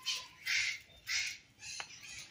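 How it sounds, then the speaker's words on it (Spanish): Parakeets chatter in a garden, a few short harsh squawking calls in quick succession, fairly faint and nearby, with no talking. "Esas son las cotorritas."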